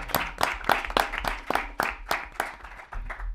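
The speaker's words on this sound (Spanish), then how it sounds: "yo creo que la forma de cerrarlo es agradecérselo con un aplauso de gratitud" Slow, distinct hand claps from a small audience closing an education event, individual strong claps spaced in a loose rhythm, fairly close and moderately loud.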